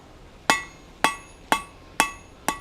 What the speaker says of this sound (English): Work our way forward with lighter blows.